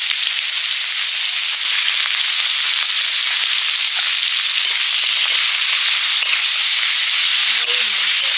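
Onions and panch phoron fry in oil rendered from fish fat, giving a loud, steady, dense sizzle with fine crackling throughout and no talk.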